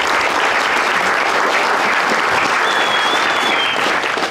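A crowd at an outdoor Flag Day event applauds loudly and continuously, close clapping at a constant level, with a faint whistle-like tone rising briefly above it partway through.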